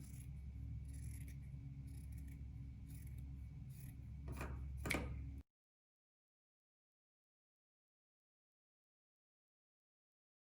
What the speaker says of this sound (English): And you can cut through both pieces of material.